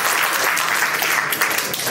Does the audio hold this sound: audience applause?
yes